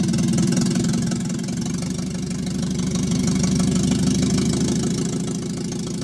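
The engine of an Eclipse project car, running for the first time in four years, gives a steady, loud, knocking drone at an even pitch throughout, with no talk over it.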